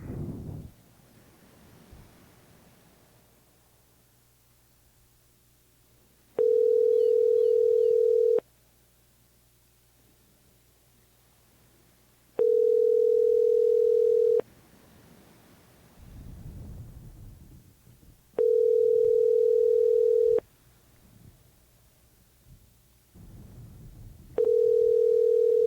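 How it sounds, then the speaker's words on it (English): Telephone ringback tone heard while placing a call, four long steady tone bursts of about two seconds each, spaced several seconds apart, with low rumbling background noise between them. "Dad's calling Andrew at Grandma's house"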